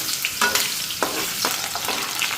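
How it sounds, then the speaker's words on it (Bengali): Potatoes frying in a pan for an egg dish, a steady close hiss of sizzling oil with a few sharp stirring scrapes spaced through it. "আলুটা আগে ভেজে নিতেছি"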